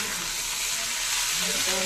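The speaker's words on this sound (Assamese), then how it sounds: "মই এইফালে ভাতখিনি ভাজি লৈছোঁ" Rice sizzles and crackles steadily as it fries in a hot pan, loud and close, with a faint voice murmuring underneath.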